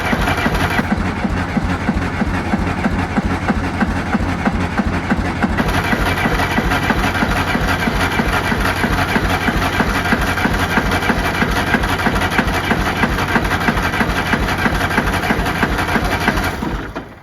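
An old John Deere tractor engine idles at low throttle close by, a steady loud chugging with an even rapid pulse that holds for the whole stretch and drops off at the end.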